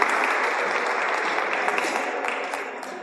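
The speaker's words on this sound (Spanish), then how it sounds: "Les damos un fuerte aplauso." A group at a reading workshop claps together in a lively, sustained burst that tapers slightly toward the end, close and clear.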